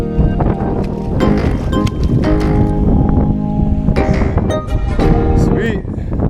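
Heavy wind buffets the microphone in a constant roar at a pond, with someone talking loudly over it outdoors.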